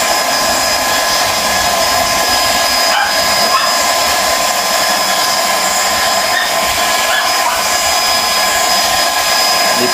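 A GX-E-CS2 HPA air compressor pump runs steadily throughout, a loud continuous motor whine with a constant high tone and an even mechanical hum, with no pauses and no talking.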